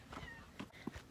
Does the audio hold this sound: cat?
yes